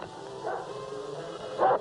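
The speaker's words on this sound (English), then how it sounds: "this is my dog" A dog barks and yips twice in a brief, moderately loud outburst, with the second call louder near the end, over a murky background.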